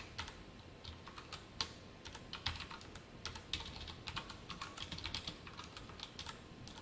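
Rapid, quiet keystrokes on a computer keyboard while JavaScript code is typed, an uneven run of soft clicks continuing alone without talk.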